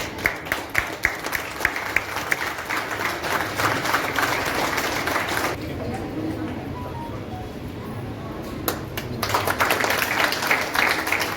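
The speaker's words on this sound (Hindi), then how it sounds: "ताली बजाइए भाई।" Audience members clap sporadically and then in scattered bursts after a recited anthem passage, the clapping mixed with ongoing talk and crowd murmur.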